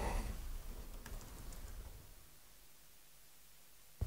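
Rapid clatter of keys on a computer keyboard as a command is typed, a dense burst for about two seconds that fades into quiet room hiss, then one sharp final keystroke.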